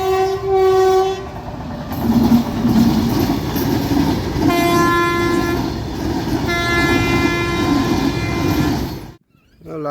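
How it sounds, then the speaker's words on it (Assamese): A train passes close by with loud, sustained rumbling and clatter, punctuated by several blaring horn blasts, before the sound cuts off abruptly near the end. "ওলাই আহোঁতে ট্ৰেইনখন দেখিলোঁ"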